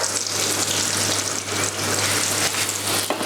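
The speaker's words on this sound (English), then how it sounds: "So just gently fry it, get a bit of colour on the breadcrumb." Steady, loud sizzling of breadcrumbs frying in hot oil in a pan, continuous with no talking.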